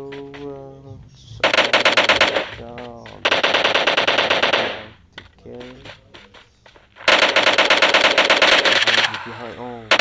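Sustained bursts of rapid automatic gunfire in the PUBG zombie mode game, three long loud volleys separated by short gaps, with a voice speaking briefly between them.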